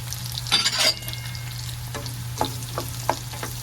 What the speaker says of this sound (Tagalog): igisa na natin itong bawang. Di ba? Hindi na gagamit ng cooking oil. Tapos, lagyan na natin yung sibuyas.